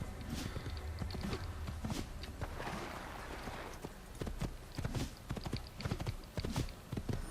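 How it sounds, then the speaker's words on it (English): Horse hooves clip-clopping in the Assassin's Creed video game, a steady run of hoof strikes at walking pace over low ambient game sound, moderately close. "You can go ahead and blend on a horse, but you'll end up going at such a slow speed"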